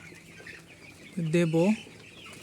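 Thirteen-day-old broiler chickens on a farm let out a short, clear cluck close by over a quiet background, with a brief spoken word nearby.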